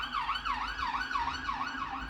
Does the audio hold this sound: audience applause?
no